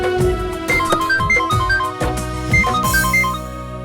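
A melodic electronic phone ringtone plays loudly and steadily, its bright chiming tune repeating with no voices over it.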